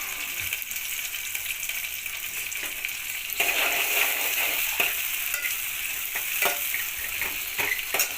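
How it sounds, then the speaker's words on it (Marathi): Onion sizzling in a pan with tomato and coriander for a pea khichdi rice dish, a steady fry hiss broken by scraping stirs and the clink of a spatula, growing louder midway, with no talk. "कांद्याला पण छान असं फ्राय करून घ्यायचं"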